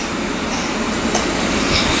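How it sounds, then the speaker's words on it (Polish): A train built for the German market passes at Wronki, a steady, loud broadband rumble of rail wagons with faint wheel clatter throughout and no voices. "Ten pociąg jest przeznaczony na rynek niemiecki,"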